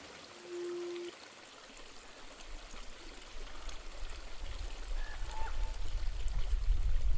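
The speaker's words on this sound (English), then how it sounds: "This poor little creek barely managed to show its way through." A small creek gurgles through deep mountain snow, a steady, soft trickling flow that grows gradually louder and nearer, with a brief tone near the start.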